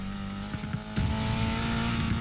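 A car in the video game Need for Speed Payback eases off and slows along the roadside. Its engine hum is steady, with a brief tire or suspension knock before the drone settles and carries on.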